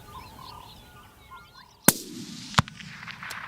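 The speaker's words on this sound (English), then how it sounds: "We're probably both gonna have to shoot." Two sharp, loud rifle shots about a second apart during an African antelope hunt, each a sudden crack with a rolling tail, following quiet outdoor ambience with faint birdsong.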